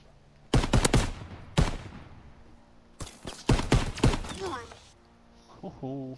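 Semi-automatic rifle shots in Call of Duty: WW2, sharp separate cracks in quick groups of two or three with pauses between, loud and close, and a voice heard briefly near the end.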